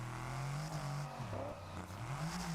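Car engine in the Test Drive Unlimited Solar Crown racing game hums at a steady drone, its pitch rising and dipping slightly as the revs shift, fairly quiet with no talk over it.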